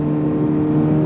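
A 2023 Honda Civic Type R's front-wheel-drive engine revs under throttle, a loud, close, steady mechanical drone with strong harmonic tones, sustained briefly without any speech.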